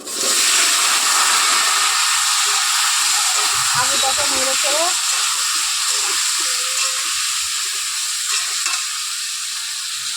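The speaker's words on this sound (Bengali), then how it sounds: "তেল গরম হয়ে গেছে, এই যে জাফরান মাখা আলুগুলো তেলের মধ্যে ছেড়ে দেবো।" Saffron-coated potatoes go into hot white oil in a pan and sizzle loudly, with a sustained close hiss and a few clinks of stirring partway through.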